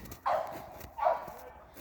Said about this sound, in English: My other dog is at the top of the hill.